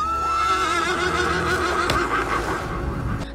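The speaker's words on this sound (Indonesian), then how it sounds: "Tapi tidak lama kemudian terdengar suara kuda." A large white horse gives a loud, drawn-out whinny with a wavering, trembling pitch that rises and then falls away over a few seconds, close by and with no voices.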